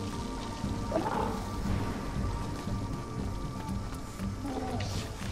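Rain falls steadily in the video game Concrete Genie, a soft continuous patter with low rumbling underneath and faint tonal game sounds drifting over it.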